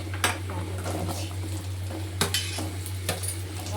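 Onions sautéing in a pan for vegetable pulao, with several sharp scraping clinks of a spoon stirring against the metal pan over a steady low hum, close and fairly quiet.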